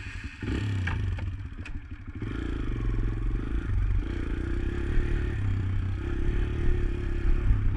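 A Kawasaki KLX 140L four-stroke dirt bike idles and pulls away in first gear, its engine note loud and close with steady mid-range drone and light clatter, a brief scrape near the start.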